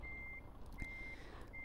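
Euro Truck Simulator 2 truck in reverse: a steady high electronic backup beep sounds in long, evenly spaced tones over a low engine rumble, clear and alone.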